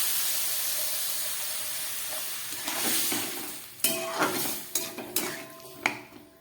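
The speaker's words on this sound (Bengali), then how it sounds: "এবার দিয়ে দিচ্ছি জল" Water poured into a pan of sizzling curry, hissing steam and frying that bursts louder, followed by several sharp clinks of a utensil against the pan as it is stirred.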